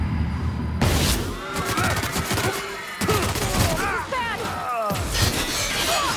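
Gunfire in the video game The Outer Worlds: Spacer's Choice Edition, with loud rapid bursts of shots and sharp impacts repeating in clusters, fighting robots and outlaws, while a voice talks over it.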